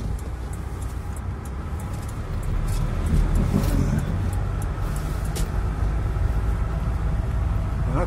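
A Mitsubishi RVR car drives along with a steady, continuous engine and road rumble that swells slightly partway through, heard from inside or close by with no talking.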